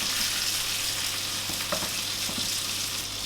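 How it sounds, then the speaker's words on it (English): A knob of butter foams and sizzles in a pan beside cooking pork chops and black pudding, a steady, close, hissing fry that holds even throughout with a few faint clicks. "I'm going to add in a knob of butter. Let that kind of just foam and cook."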